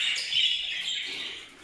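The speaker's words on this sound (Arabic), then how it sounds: "طبعا هون عندنا هون الافراخ" Young bird chicks in a home aviary chirping in a dense, high, continuous twitter, close but fairly soft, with no talking.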